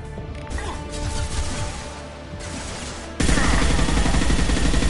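Gunfire during a combat encounter in Mass Effect 2, a layered rattle of shots and impacts that suddenly swells into a loud, dense barrage for the final seconds.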